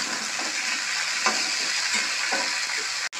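Broccoli, beans and peas sizzle in hot oil in a pan while being stirred for sago khichdi; a steady close frying hiss carries periodic scraping stir strokes, with no talking.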